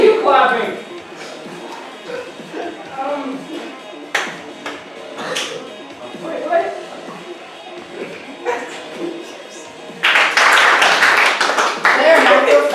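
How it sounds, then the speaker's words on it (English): Hands clapping in short bursts, loudest in a dense run near the end, mixed with voices talking, a dog's barks or yips and shuffling around them. "What are you clapping?"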